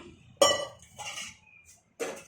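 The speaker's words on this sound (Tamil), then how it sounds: "ரெண்டு டம்ளர் தண்ணி ஊற்றி குக்கர் மூடி போடுவோம்." Three sharp metallic clanks as a pressure cooker lid is fitted and closed, close up, separated by brief pauses.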